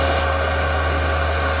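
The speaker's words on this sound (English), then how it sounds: "The fan in my power supply came on." Steady whirring hum of a small power supply cooling fan, constant and unchanging, with no voices.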